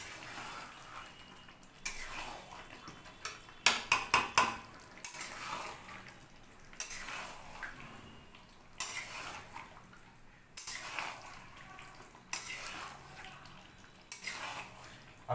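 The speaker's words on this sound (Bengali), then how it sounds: "আমরা এখন সিদ্ধ করা মাংসটা এর মধ্যে দিয়ে কষব" Boiled mutton being stirred and fried in a pan with spices for a Hyderabadi-style mutton kosha, heard as bursts of sizzling and wet frying alongside clinks and scrapes of a utensil against the pan, close and intermittent.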